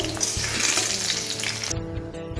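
Potatoes seasoned with salt and turmeric fry in hot oil, giving a dense, steady sizzle that carries on close by and then drops away abruptly near the end.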